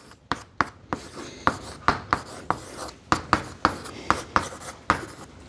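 Hand-writing an equation on paper: a steady run of sharp pen taps and short scratchy strokes, close and clear, with a regular, quick rhythm and no voices over it.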